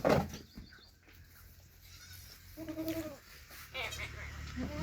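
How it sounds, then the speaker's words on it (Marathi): Goats bleat a few times in a farm shed at a feeding trough, short nasal calls rising over background chatter and movement at close range. "गव्हाणींची सोय कशाप्रकारे केलेली आहे आणि त्यामध्ये शेळ्या कसं खाद्य खात्यात पाहू शकतात"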